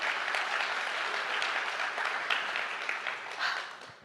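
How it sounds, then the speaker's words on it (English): Audience applause at an anniversary party, a dense, steady wash of many hands clapping that carries loud and unbroken for several seconds without talk. "another round of applause for Crenissa"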